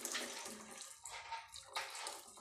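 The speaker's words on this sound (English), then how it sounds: "You put water. There is hot water, yeah, in a sufuria" Hot water poured into a sufuria cooking pot while making Kenyan chai, a close, splashing gush with uneven surges over a couple of seconds and no voices.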